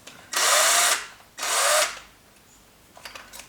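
A power drill bores holes in a signal generator project case, with two loud bursts of roughly half a second each followed by faint clicks and handling.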